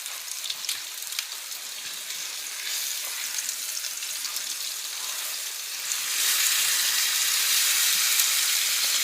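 Ribeye steaks sizzle steadily in a hot frying pan, a dense crackling hiss that swells louder partway through as the meat is moved, with no talking.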